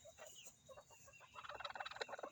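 A pet hen close by gives a string of soft clucks that build into quicker, louder clucking toward the end, with no talking over it.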